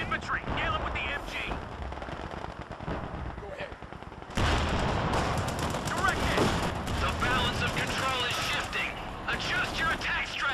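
Machine gun fire rattles in the Company of Heroes 2 video game as a sustained battle din of rapid bursts and heavier blasts that grows louder midway, with voices talking over the fighting.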